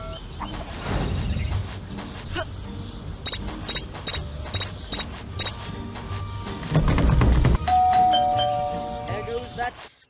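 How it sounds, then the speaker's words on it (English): Doorbell chimes ring out in the Scary Teacher 3D video game, a sequence of bright repeated tones amid game sounds and voices talking over them. "There goes that stupid bell again."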